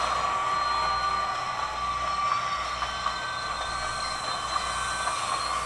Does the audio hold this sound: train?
yes